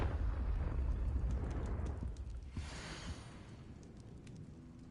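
A Confringo blast spell from the video game Hogwarts Legacy erupts in a heavy rumbling explosion that rolls on loudly, then gradually fades away.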